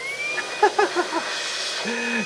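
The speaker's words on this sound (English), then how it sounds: "this essentially is now a blower" A FANTTIK V8 Apex Mate cordless vacuum runs in blower mode, giving a steady airy whoosh with a high whine throughout, while a few short tonal blips stand out over the constant blowing.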